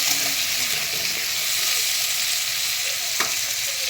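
Potatoes and soybeans fry together in a hot pan with a loud, steady, close sizzle that runs throughout, broken near the end by one brief clink.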